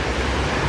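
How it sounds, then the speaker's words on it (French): Water churning in a wave pool at the Royalton Splash resort in Punta Cana, a steady close rush of surf with no break. "Là, il y a la piscine à vagues."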